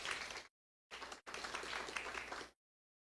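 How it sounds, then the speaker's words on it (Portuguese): A panel audience at an Indigenous health roundtable breaks into applause, a faint, dense patter of clapping in short bursts separated by abrupt silences. "Uma salva de palmas."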